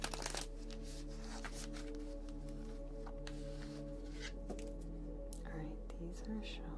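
A deck of playing cards is shuffled at close range during a live stream, soft riffling and shuffling sounds repeating over a quiet background hum.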